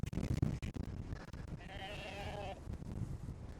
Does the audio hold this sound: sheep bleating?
yes